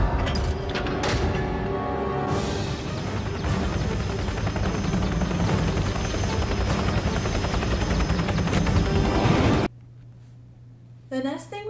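A helicopter from an Ant-Man film scene roars loudly with rapid rotor chop and turbine whine, continuing steadily before cutting off abruptly to near quiet, where a voice briefly speaks.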